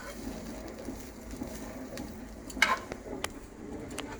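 A spoon stirs seasoned chicken in a pan, soft scraping and shuffling over a low steady sizzle, with a few sharper clinks near the middle.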